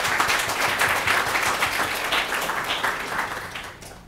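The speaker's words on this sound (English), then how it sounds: "Let's give him a round of applause." An audience in a presentation-skills session applauds a volunteer, a dense burst of many hands clapping loudly that fades toward the end.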